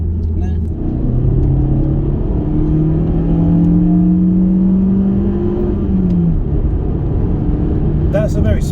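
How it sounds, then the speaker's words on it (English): A Honda Civic Ti's engine is revved, a loud steady engine drone with rising and falling pitch that holds close for most of the stretch, with a brief higher whine near the end. "Do you mind if I just rev it a bit?"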